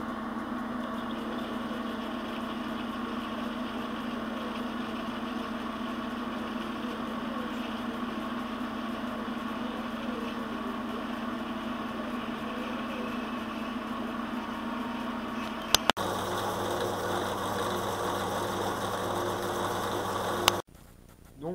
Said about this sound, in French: j'ai maintenant fini de scier le volant moteur